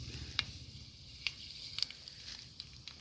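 Mustard seeds popping in hot coconut oil with fenugreek, a soft steady sizzle broken by a few sharp scattered pops.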